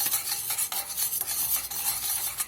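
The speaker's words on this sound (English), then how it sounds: "Try to cook some of that vinegar out." A butter and vinegar Crystal butter sauce bubbles and sizzles in a pan with a constant hissing fizz and some stirring scrapes, with no voices.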